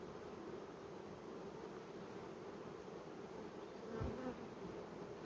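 Honeybees buzz steadily over hive frames heavy with brood during a summer inspection after protein-patty feeding, a dense, continuous close hum with a brief louder swell near the end.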